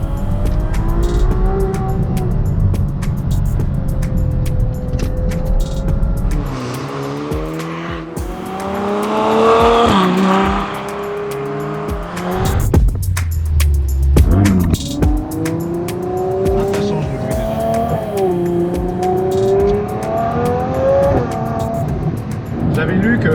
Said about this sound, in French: Pas de turbo, pas d'hybridation, c'est juste un énorme V12 de 6 litres 5.